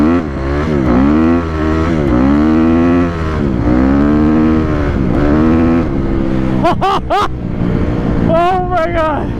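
Honda CRF250R dirt bike engine revving hard during a ride, loud and close with rising and falling throttle sweeps, someone shouting excitedly over it.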